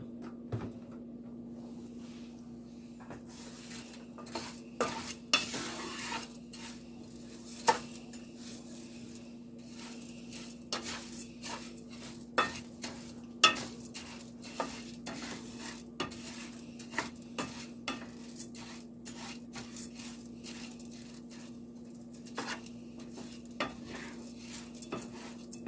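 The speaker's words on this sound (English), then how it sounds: "we are going to stir this around and brown it" Orzo and rice being stirred and browned in a pan for rice pilaf: a steady low hum runs beneath repeated scraping clinks of a utensil against the pan and faint sizzling, with no talking.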